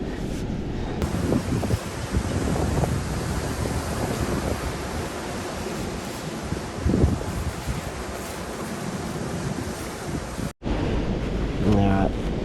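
Strong, steady wind buffets the microphone at an outdoor campsite during a tarp tent setup, a continuous loud roar with gusty swells and a brief dropout near the end.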